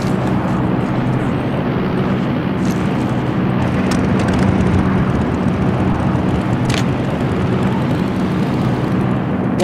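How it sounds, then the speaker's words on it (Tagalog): Steady, loud airplane engine drone in the battle royale game Rules of Survival, a constant broadband roar holding for nearly ten seconds with faint clicks on top and no talking. "ang ingay ng aeroplano nyo"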